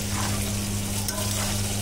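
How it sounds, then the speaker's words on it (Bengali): Dried fish (shutki) curry cooking in a pan over a medium flame, a steady loud sizzle and bubbling with faint stirring scrapes throughout. "চাপাটা খুলে আমি এখন ভালো করে একটু নেড়ে নেব"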